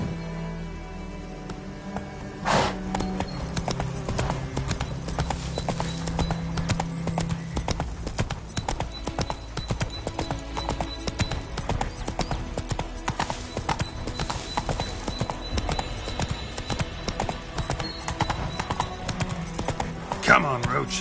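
Horse hooves clip-clop in a steady, continuous rhythm through a Witcher 3 game scene, with a brief whinny near the start and a faint background bed, no talking heard.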